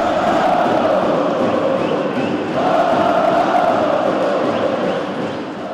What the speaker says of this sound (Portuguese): Dentro do ginásio, a torcida também deu show.